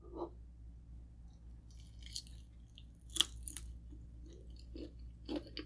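Quiet close-up chewing of Pancit Palabok rice noodles with shrimp, soft wet bites and occasional crunchy smacks at an irregular pace, with no talking.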